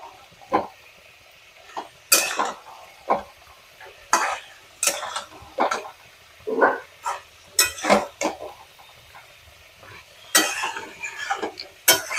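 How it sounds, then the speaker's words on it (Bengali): Mutton stirred and fried in a pan for Bengali mutton kosha after a splash of hot water: repeated scraping and clattering of a spoon against the pan in irregular bursts, close, with low sizzling between strokes. "এবার এটাকে ভালো করে কষিয়ে নেব।"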